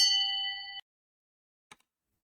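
A bright notification ding, a single clear metallic chime that rings for under a second and then cuts off, followed by silence and a brief faint click near the end.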